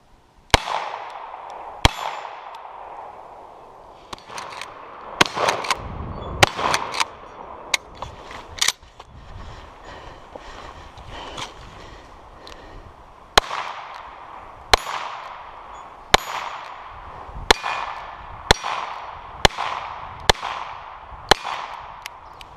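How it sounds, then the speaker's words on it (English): A Smith and Wesson Model 63 revolver fires double action at a range, with a dozen or so sharp, loud shots spaced irregularly through the stretch, each ringing briefly over a steady outdoor background. "When you fire a revolver in the double action mode, when you're just pulling on the trigger"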